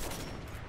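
A single gunshot from the video game Sniper Elite 4, a brief loud burst filling the whole moment.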